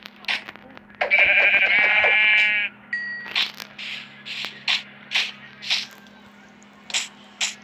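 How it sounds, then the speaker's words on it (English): Sheep bleat in the Minecraft video game: one long, loud wavering bleat near the start, followed by a steady series of shorter bleats and blocky game sounds, with no talk over them. "Where's that sheep coming from?"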